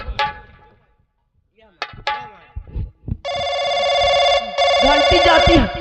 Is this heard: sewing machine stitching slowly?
no